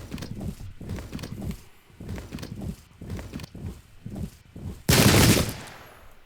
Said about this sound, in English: Some artillery fire, guys. And the Gatling gun fired in that time.